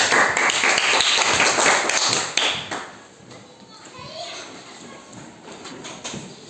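A classroom of children claps for group 2 after their presentation. The dense, loud clapping lasts about two and a half seconds, then fades into quieter chatter and scattered taps.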